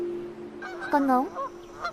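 A goose gives a short series of loud, nasal honks near the middle of the clip, close and clear above a steady droning background tone.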